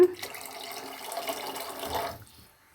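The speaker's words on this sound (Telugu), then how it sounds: "లీటర్ వాటర్ వేసుకున్నాను" About a liter of water pours into a cooking pot in a steady splashing stream for roughly two seconds, then stops.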